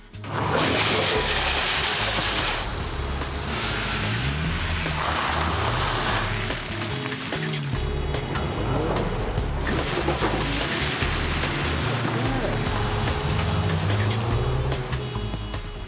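Race car spinning out after jolting over a skid plate on a racetrack, a loud continuous roar of engine and tyre noise with rushing, scrubbing texture throughout, no pauses.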